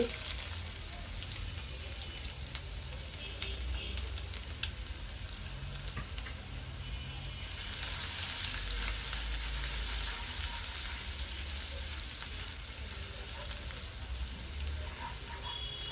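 Chopped ginger and three or four large garlic cloves fry in hot oil with a steady, close sizzle that swells louder midway, under light stirring.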